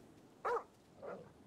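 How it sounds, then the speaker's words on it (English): A dog in Grand Theft Auto V gives two short barks about half a second apart, the first louder and sharper, the second softer, against quiet background. "Wow, that is a really good looking dog."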